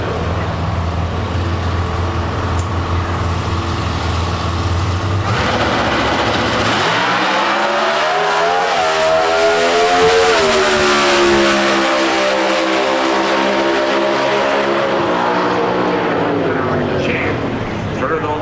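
A Mopar and a Mustang race side by side in NHRA Factory Stock Showdown eliminations at the Summit Nationals in Norwalk, Ohio. Loud engines roar through the launch and climb steadily in pitch as both cars accelerate, with a commentator talking throughout.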